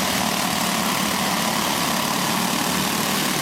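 Go-kart engines with shaved heads and dyno cams run on a backyard race track, a steady, dense buzzing drone with no breaks or voices.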